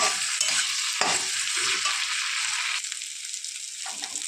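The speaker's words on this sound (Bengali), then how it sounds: "সয়াবিন আলু দেওয়া হয়ে গেছে, এবার কষিয়ে তারপর আবার জল দিয়ে দেবো" Soya chunks and potato stir-fry in a pan for a home-cooked dish, a bright continuous sizzle with scraping stirs, loud and close, easing slightly toward the end; no voices.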